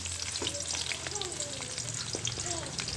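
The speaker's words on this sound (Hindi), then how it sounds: "अब हम प्याज को भूनेंगे" Onions frying in hot ghee for a matar gobi dish: a dense, steady sizzle with soft stirring scrapes, close and continuous, and no voices.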